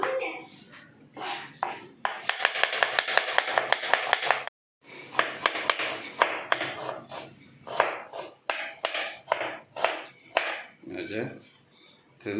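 Onions being cut in half on a board, a series of sharp knife knocks, some in quick runs and some spaced apart, with talk in between.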